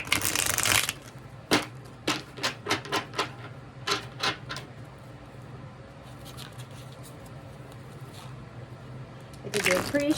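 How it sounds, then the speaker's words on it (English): A deck of tarot cards is riffled and shuffled nearby in a rapid run of crisp flutters, followed by a quieter pause and another burst of shuffling at the end. "I did do a pre-shuffle. I just wanted to mix them up a little bit."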